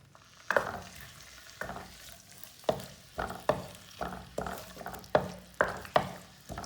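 Garlic and onion sizzle steadily in oil in a pan while a spoon stirs and scrapes at irregular intervals, close and clear, with no talking.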